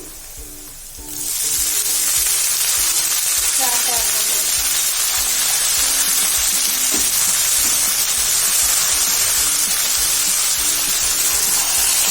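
Green chilies hit hot oil in a home kitchen pan for a fenugreek and soy vegetable dish, bursting into a loud, steady, close sizzle that stays dense and unbroken after a quieter first second.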